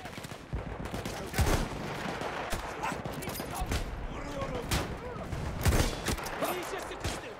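Battlefield 1 gunfire rings out in several sharp, loud blasts spread irregularly among game noise and battle ambience, with a player talking over parts of it.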